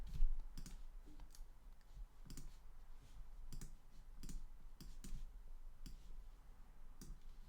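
Computer keyboard being typed on: scattered, irregular clicks and taps at a moderate distance over a low background hum, with no talking.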